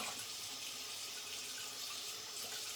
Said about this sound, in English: So a bit of a lukewarm water rinse first to get the soap off.